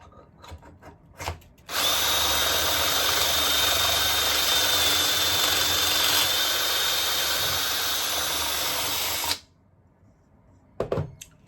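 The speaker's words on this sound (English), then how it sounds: "make sure that the drill bit is at full speed before you start to penetrate the material." A power drill spins up to full speed and bores a pocket hole into wood, a loud sustained high whine of about eight seconds, with short handling clicks and knocks before and after.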